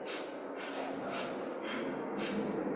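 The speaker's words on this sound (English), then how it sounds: "exhale in 8 sniffs out the nose" Sharp nasal sniffs pushed out through the nose in a breathing exercise, a few broad bursts at an uneven pace, close and fairly loud with steady background hiss.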